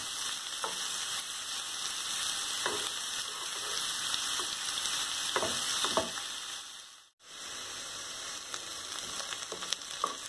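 Ingredients fry in a pan for Hyderabadi mirchi ka salan, a steady close sizzle with intermittent stirring scrapes, briefly cutting out once before resuming.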